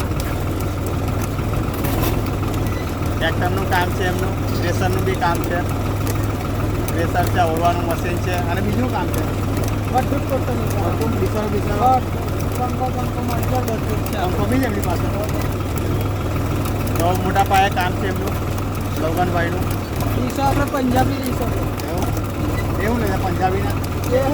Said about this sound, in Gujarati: તેમનું ટ્રેક્ટર આવ્યું છે કોઈને બી ઓળાવું હોય તો તેમને કોન્ટેક્ટ કરી શકો છો